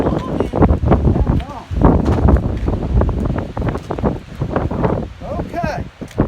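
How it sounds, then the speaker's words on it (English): Strong gusty wind on the coast of Alaska battering the microphone in loud low rumbles while people talk over it. "It is windy."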